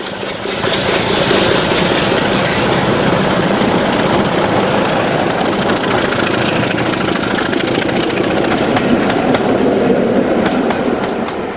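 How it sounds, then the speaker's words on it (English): A pair of Class 26 Crompton diesel locomotives, D5310 and 26024, run at Bowness, their engines a loud, continuous roar close by with faint rhythmic wheel clatter throughout and no voices. "D5310 and 26024 pair up at Bowness in April 2008, as Mac Cromptons are wont to do."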